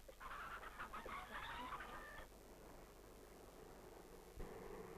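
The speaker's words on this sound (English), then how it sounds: "Improved breeds of hens have been developed." Hens on a New England poultry farm cluck in a quick, busy chorus for the first two seconds, followed by quieter scattered clucks and a brief cackle against a hissing background, with no talk.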